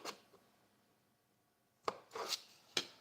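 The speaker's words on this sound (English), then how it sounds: "Now I gotta cut up some onions." Knife chopping onions on a board, a short cut near the start, a pause, then a few sharp, close chops in quick succession.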